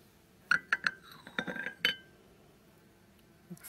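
French glass teacups from a vintage tea set clink together, three quick bright chimes followed by a cluster of rattling taps and one more clink, then quiet.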